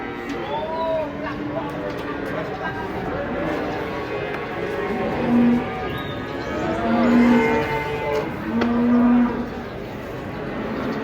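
A giant cow unloading from a truck moos several times, deep drawn-out lows rising over a noisy, crowded scene where people talk and shout throughout.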